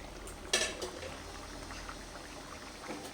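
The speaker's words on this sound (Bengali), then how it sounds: "এই সময় আমি ভেজে রাখা চিংড়ি মাছগুলোকে সব দিয়ে দিচ্ছি" Fried prawns drop into a boiling, turmeric-tinted pot of prawn pulao with a short splash, followed by a quiet, continuous bubbling simmer.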